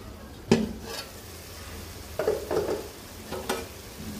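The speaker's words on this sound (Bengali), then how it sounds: "এখন তরকারিগুলো দিয়ে ভালো করে কষাবো। নেড়ে চেড়ে দিব, এরপর ঢেকে দিব।" Vegetables being stirred and fried in a pan for a fish curry with aubergine, potato and rohu, giving a few separate scraping stirs over a low sizzle, close and moderately loud.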